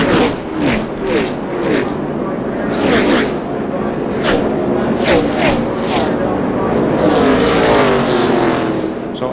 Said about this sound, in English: Another race car